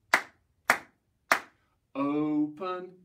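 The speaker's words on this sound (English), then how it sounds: "Give a little clap." Three sharp, evenly spaced hand claps close by during a children's action song, followed by a sung voice.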